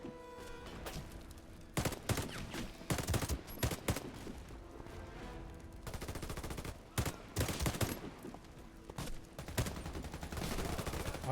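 Gunfire in the Warface video game crackles in repeated bursts of automatic shots, sharp and loud, separated by brief pauses with a steady background din.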